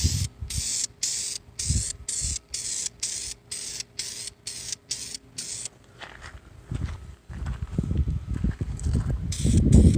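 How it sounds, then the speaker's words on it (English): A rattle can of spray paint is sprayed onto a 1991 Toyota MR2 exhaust manifold in a series of rapid short hissing bursts, then quieter rustling and handling noises as the spraying stops. "Make sure you shake up your rattle can good."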